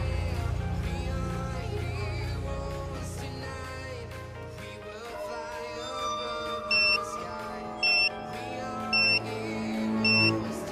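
Four evenly spaced, sharp electronic beeps sound as a phone audio recording cuts off, heard over a low sustained musical drone.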